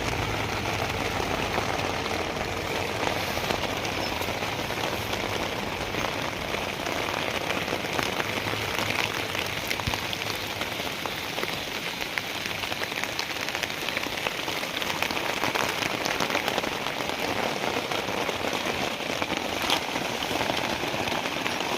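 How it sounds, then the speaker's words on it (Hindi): Steady rain patters on a taut tent, a continuous dense drumming close by, with a faint low rumble underneath. "बारिश पड़ रही है भाई।"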